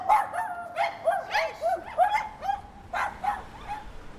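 Dogs bark outdoors in a steady series of sharp, yippy barks, about a dozen over four seconds, with some whimpering between them.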